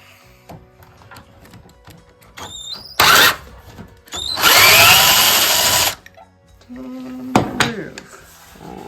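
Power tool grinding rust off old bathroom hardware, coming in loud whining bursts of a few seconds separated by quieter clatter and handling noise.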